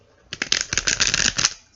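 A deck of tarot cards riffled in one quick, close shuffle, a dense burst of papery flutter lasting about a second and a half with no talking.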